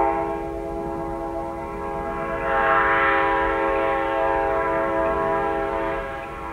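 Compressed-air train horn from the 1990s sounding one long, sustained chord with rich harmonics, swelling in the middle and tapering at the end, loud and close.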